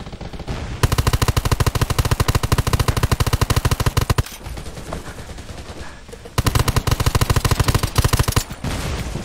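Rapid automatic gunfire in an Undawn PvP battle at a supply camp, loud and sustained in long bursts with short gaps, then resuming.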